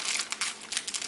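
Plastic wrap crinkles as it is tucked between floral foam and a basket during flower arranging, a close, continuous crackling rustle with brief bursts.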